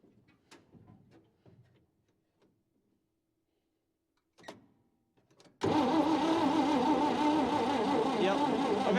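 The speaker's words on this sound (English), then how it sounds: "Here, Mikey, I'm gonna have you go turn it, or turn the engine over." A 1953 Chevy 3100 truck engine is cranked over with the key off, a loud, steady churning drone that starts abruptly after a few seconds of faint clicks and handling noises and then runs continuously to the end.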